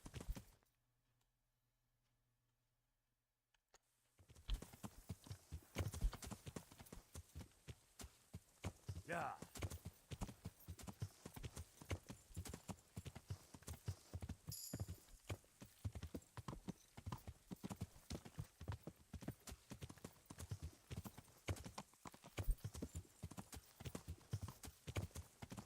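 Horse hooves while riding in Kingdom Come Deliverance, a steady rhythmic clip-clop of a trotting horse close up, running continuously after a few seconds of near silence, with occasional talk over it.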